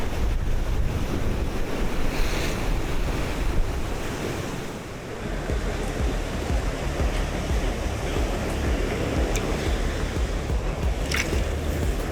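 Wind from the side blows steadily at a rocky seashore in early dawn during shore fishing, a constant roaring gust over rumbling surf with a few faint knocks and no talking.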